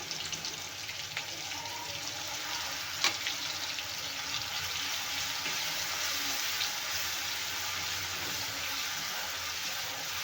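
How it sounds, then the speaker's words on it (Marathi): Ground green chilli paste fries in hot oil, giving a soft, steady sizzle with one brief sharper crackle, fairly quiet and close, with no talk over it. "तर तेल गरम झालेलं आहे आता आपण वाटलेलं मिरची वाटलेली टाकून देऊया"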